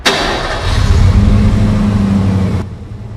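A getaway car in the 1996 film Bound cranks and its engine catches, idling at a steady, close rumble for a couple of seconds before cutting off abruptly.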